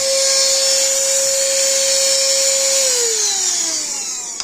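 A GOGOING handheld cordless vacuum cleaner whirs loudly up close with a steady high whine, then its pitch slides down as the motor winds down.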